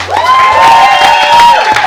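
A crowd at an evening show applauds and cheers loudly for a guest performer and his manager. The clapping is dense, with whoops and shouts over it, and a sung or sustained voice runs through the start.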